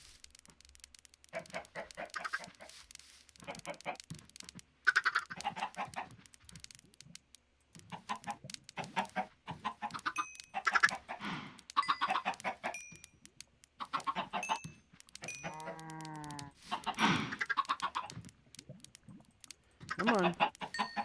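Chickens in the farming video game Utopia cluck in short, scattered bursts, with an occasional crowing call, while a person talks over them at low volume.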